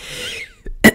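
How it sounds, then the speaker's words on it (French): A person with a bad cough lets out a sharp, close cough burst after a quiet breath, the cough loud and harsh. "j'ai une mauvaise toux"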